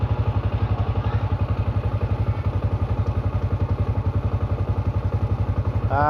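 Motorcycle engine idling steadily after being started by a fingerprint scanner, a close, loud, even rapid chugging throughout with a brief higher whine near the end.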